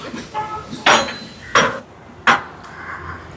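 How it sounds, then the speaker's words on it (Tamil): A spoon knocks and scrapes against a pot in three or four distinct clinks spaced about half a second apart while yogurt is stirred into chicken biryani, close and fairly loud. "இதோட தயிர் சேர்க்குறேன். கலந்துடுவோம்."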